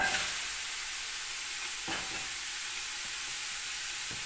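Three large chopped onions sizzle loudly in oil in a hot pot, a steady frying hiss with occasional stirring scrapes and no voices.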